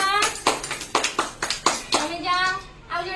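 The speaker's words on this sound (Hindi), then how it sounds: "वेरी गुड ताली मारो" Children in a classroom shape activity clap their hands in a quick series of sharp, close claps, about six spaced bursts, with a voice speaking briefly between and after them.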